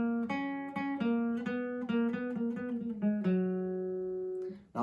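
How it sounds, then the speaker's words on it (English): The intro guitar riff of a song rings out alone as a steady run of clean, bright plucked notes in an even rhythm, with the last note left to sustain. "let's start by having a look at that intro guitar riff"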